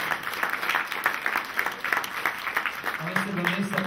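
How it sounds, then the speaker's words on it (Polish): Audience applause for a singer at a Polish performance, a steady patter of clapping throughout with a few louder peaks, and a voice briefly heard near the end. "Jeszcze raz duże brawa dla niej."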